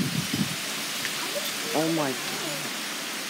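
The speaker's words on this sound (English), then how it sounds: "Wow, it's really coming down. There's super rain." Heavy rain pours down steadily during a severe thunderstorm, a dense, even hiss close by, while a person speaks excitedly over it.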